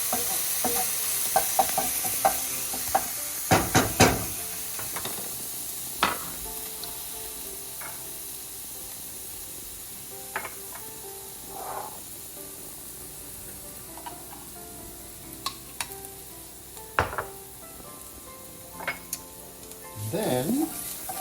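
Four cloves of chopped garlic sizzling in a pan and stirred with a utensil, a soft steady fry punctuated by sharp scraping clicks and knocks, fairly quiet and with no talking.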